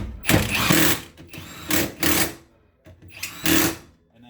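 A power tool tightens bolts on GBR V3 AWD conversion brackets on an EM2 car, whirring in four close, loud bursts of about half a second to a second each, separated by short pauses.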